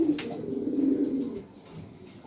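Pigeons coo, a male kept apart from a female, giving a close, throaty rolling coo that swells and then fades, followed by softer murmuring.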